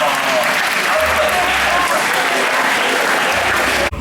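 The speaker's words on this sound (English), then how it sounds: "give yourselves a round of applause for that" Loud, dense applause from a youth event audience after a magician's illusion, steady and continuous for a few seconds before cutting off abruptly.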